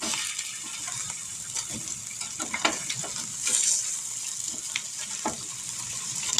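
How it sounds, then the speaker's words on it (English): Burgers sizzle steadily in a hot frying pan after being flipped, a continuous crackling hiss with scattered sharper pops and spatters, close and fairly quiet, with no talking. "time to flip these burgers. See what they look like. We'll give them a flip."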